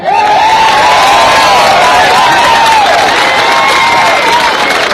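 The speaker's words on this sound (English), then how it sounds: "can we get a huge round of applause for Nick Patterson" A large crowd bursts into loud, sustained applause and cheering for a person being introduced, with whoops and shouts riding over dense clapping throughout.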